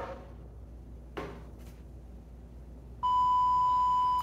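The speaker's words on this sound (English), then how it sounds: "We bump the RFID band against the module here. It beeps, it flashes blue." A Dashr timing module beeps when an RFID wristband is tapped against it. A couple of soft knocks come first, then a loud, steady electronic tone sounds close by and lasts about a second.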